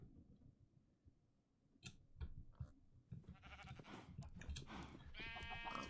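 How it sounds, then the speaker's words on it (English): Sheep bleats in the Minecraft video game, several short nasal calls near the end rising above a busy backdrop of in-game clicks and thumps. "And I need a sheep. Come here, sheep."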